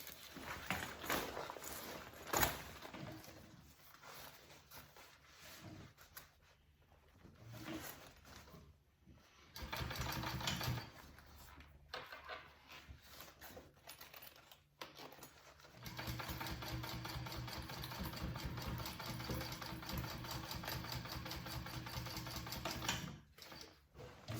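A sewing machine top stitches a bowler bag, running in bursts with short pauses between them and then in a steady rhythmic run toward the end. It is moderately loud and close, with no talk.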